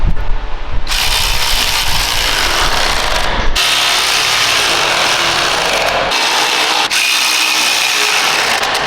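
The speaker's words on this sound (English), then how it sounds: "Put the bolt locking nut through. Lock her up." Power tool tightening a bolt with locking nut on a Bendpak four-post car lift, a loud, close, continuous mechanical whirring and rattling in several sustained runs with no talk.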